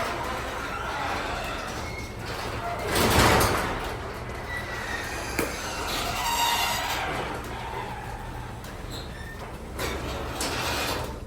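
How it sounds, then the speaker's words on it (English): Garage doors closing, a long rumbling slide that swells to a louder roll partway through and then settles into a steady grind with a small knock, heard without talk. "I'm going to close the garage doors."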